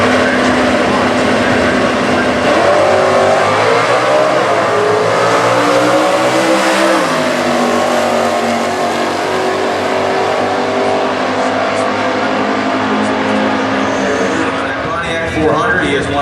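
Stock Eliminator drag race cars at the US Nationals roar loudly down the strip, engines revving and climbing in pitch continuously, with a commentator talking over the racing.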